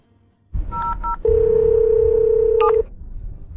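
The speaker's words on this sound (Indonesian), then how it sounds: "Saya telepon Pak Zhao sekarang" A phone call begins with a short burst of keypad dialing tones followed by a steady, loud tone lasting over a second, alone with no voices.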